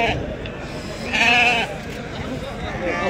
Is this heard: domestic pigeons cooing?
no